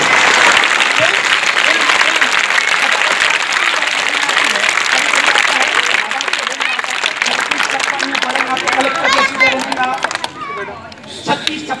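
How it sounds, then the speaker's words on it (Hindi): Schoolchildren and guests applaud loudly after a recited poem at a school tree-planting event with a commissioner and a mufti. Dense, sustained clapping dominates for several seconds, then thins as a voice begins speaking over the fading claps. "ताली"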